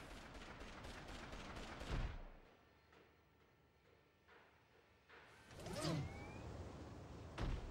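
Gunfire in the Beverly Hills Cop video game: a rapid, dense volley of shots at the start, then a quieter stretch, followed by another loud burst and a final sharp shot near the end.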